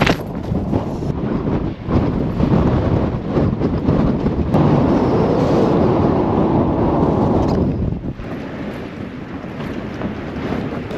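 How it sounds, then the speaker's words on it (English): Strong wind gusts batter a tent at a campsite, a loud roaring rush with heavy low rumble from the wind on the microphone, swelling into a sustained blast in the middle before easing. "The gusts are getting more and more frequent."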